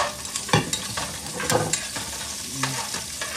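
Onions and garlic sautéing in hot oil in a pan for ginisang patola with misua, with bones added for flavor: steady sizzling frying broken by several sharp scraping stirs and clatters of a utensil, close and with no talk.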